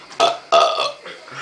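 Loud burps during a burping contest, two strong belches in quick succession followed by softer trailing gurgles, close and alone without talk.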